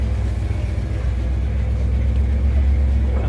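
A 1967 Toyota FJ40 Land Cruiser, a short-wheelbase custom build, pulls away with a steady, loud low engine rumble that swells slightly as it gets under way, with no talking over it.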